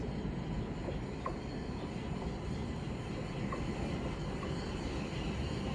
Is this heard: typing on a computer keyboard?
no